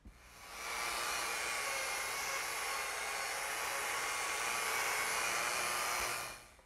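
A power sander runs steadily on glued-up wooden boards, a continuous high whirring hiss that starts, holds for about five seconds and stops, with no talking.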